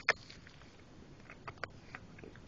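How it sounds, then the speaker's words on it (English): A dog crunching and chewing on a rock, giving a few sharp crunches and small gnawing clicks at irregular intervals, faint and close with quiet pauses between bites. "Maybe you can hear him crunching on it."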